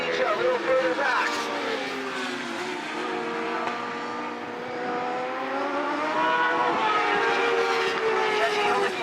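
Open Supersport superbikes racing on a track, engines whining and shifting pitch as they sweep past at a distance, continuous under a race commentator's voice.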